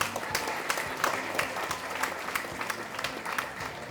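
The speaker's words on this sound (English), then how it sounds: "Can I have a round of applause" A crowd claps through a round of applause at Roraima Airways' silver jubilee celebration, a close, fairly steady patter with sharper claps standing out over a low room hum.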